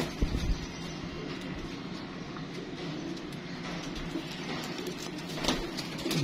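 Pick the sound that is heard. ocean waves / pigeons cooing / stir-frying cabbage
pigeons cooing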